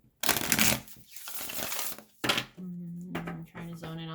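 Tarot cards shuffled by hand in several quick riffling bursts, close and crisp, with short pauses between them and a voice speaking briefly near the end.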